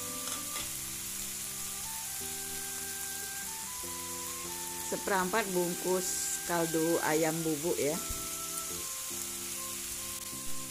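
Chicken cooks and is stirred in a pan without oil for a sweet and spicy dish, giving a steady, soft sizzle beneath a person speaking throughout.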